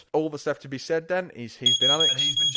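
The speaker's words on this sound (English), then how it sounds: "That's my smoke alarm." A smoke alarm gives a high, piercing electronic tone that starts partway through and holds steady to the end, under someone speaking close to the microphone.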